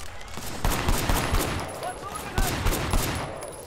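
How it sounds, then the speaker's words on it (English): Rapid gunfire in the Sleeping Dogs video game, with dense bursts of shots cracking close and loud, plus a few heavier single reports among them, while a voice talks faintly underneath. "and then I shot that lady"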